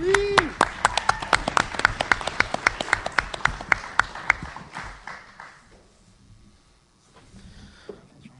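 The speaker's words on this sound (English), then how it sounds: "Round of applause for JP." At a small live show, a handful of people clap in quick, sharp, evenly spaced claps that ring out clearly, then thin and fade into near silence after about five seconds, with faint murmuring after.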